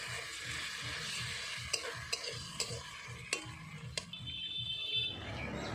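Ginger-garlic paste and tomato sautéing in a pan, a steady sizzle with a spoon stirring rhythmically and a few sharp scrapes and taps of utensil on metal. Close, and no one talks.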